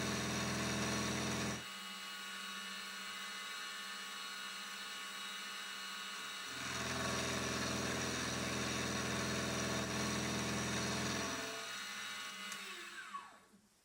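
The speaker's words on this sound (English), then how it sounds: "milling down to the line, and in fact, milling the same amount off both sides" A milling machine cuts a metal press brake die piece, giving a steady motor drone broken by two louder, harsher cutting passes before the machine winds down at the end.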